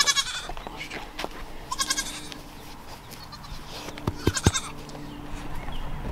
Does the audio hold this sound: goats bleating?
yes